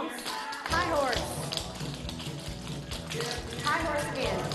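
Clogging dancers stomp in rhythm on a stage floor during an Appalachian mountain dance, a regular series of dull thuds over lively backing music.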